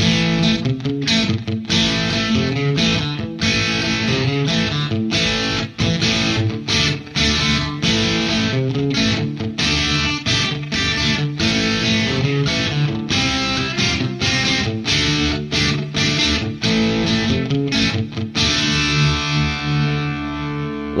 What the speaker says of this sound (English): you're into that light distortion